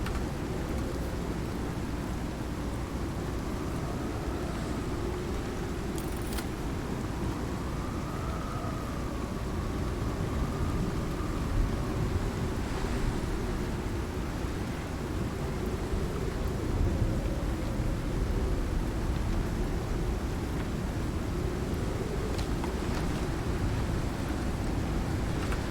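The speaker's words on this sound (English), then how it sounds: "There's a storm outside, mate." Thunderstorm with heavy rain in the Icarus survival game, a dense, continuous low rumble and wash of rain that holds steady at a moderate level for the whole stretch, with no voices.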